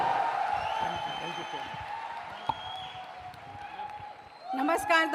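Audience at an event applauds, a soft continuous patter of clapping that fades gradually before a voice begins speaking at the end.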